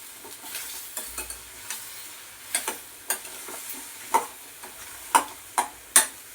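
Ridge gourd for ennegayi cooks in a pan, a faint low sizzle under a run of sharp, fairly regular spatula taps and scrapes against the pan, close by and without talk.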